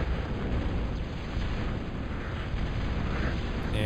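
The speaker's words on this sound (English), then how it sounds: "the Big Berthas are turning to shoot the Crusaders" Big Bertha long-range cannons firing in Total Annihilation on the Trout Farm map, blending into a continuous dense roar of explosions and booms that stays loud and unbroken throughout.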